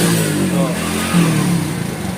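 A motorcycle engine revved under throttle with a fault that keeps it from pulling past about 60, a steady mid-pitched drone with slight pitch swells, close and continuous for the whole stretch.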